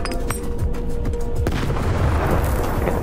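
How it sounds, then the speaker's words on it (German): Grenade blast in the video game Stalker 2, a loud boom that lands about halfway through, then a rumbling, crackling tail of debris, coming after a stretch of clattering, shot-like impacts. "Auf mit den Granaten, Digga."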